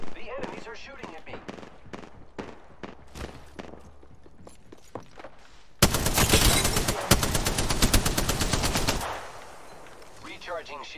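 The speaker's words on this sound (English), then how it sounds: "The enemies are shooting at me." Enemy gunfire in the Apex Legends video game comes as scattered single shots and short bursts, then a dense stretch of rapid automatic fire from nearby that cuts off abruptly, with faint game sounds around it.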